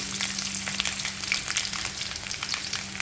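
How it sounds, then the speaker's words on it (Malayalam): Mustard seeds, dried red chillies and garlic sizzle with coconut bits in a hot pan, a steady close crackling fry with scattered pops running throughout, no talk. "തേങ്ങാക്കൊത്തൊന്ന് ചൂടായി വരുമ്പോൾ നമുക്കിതിലേക്ക് 1 സ്പൂണ് കടുക് ചേർത്ത് കൊടുക്കാം"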